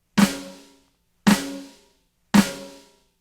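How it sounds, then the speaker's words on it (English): Three single drum strokes spaced about a second apart, each a flam with a slightly doubled attack that rings out and decays before the next. "the flam is when we strike with both hands, with one stick falling just slightly before the other"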